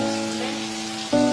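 Steady rain falls on a surface as a continuous wash that stays loud throughout, with a slight jump in level and tone near the end.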